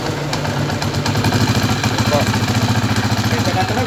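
A refreshed TMX155 motorcycle engine idles close by, a loud, even, rapid thumping pulse that holds steady throughout.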